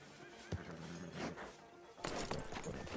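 In Red Dead Redemption 2, a horse gives a loud whinny up close, followed by snorting and hoof clatter, with faint background game noise.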